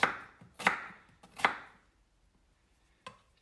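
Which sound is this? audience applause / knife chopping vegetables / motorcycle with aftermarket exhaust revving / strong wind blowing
knife chopping vegetables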